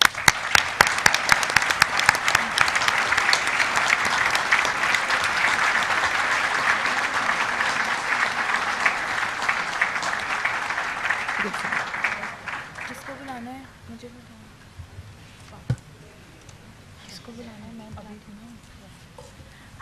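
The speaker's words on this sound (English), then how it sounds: "I would like you all to rise up and give a round of applause to all of them." A standing audience at a Stratford University convocation bursts into loud, sustained applause that fades after about twelve seconds, leaving a quieter hall with scattered murmurs and a sharp knock.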